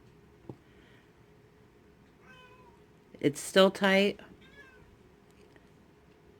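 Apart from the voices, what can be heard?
pet cat meowing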